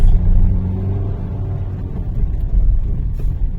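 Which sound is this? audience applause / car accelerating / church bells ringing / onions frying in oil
car accelerating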